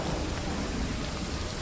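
Steady rain falls in an unbroken dense hiss of drops across the whole stretch, fairly loud and even, with no voices.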